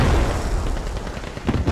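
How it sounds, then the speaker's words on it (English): A satchel charge detonates in the military shooter game Squad, a loud, deep boom with heavy rumbling debris and crackle filling the whole moment. "Let's just sit here and enjoy this explosion."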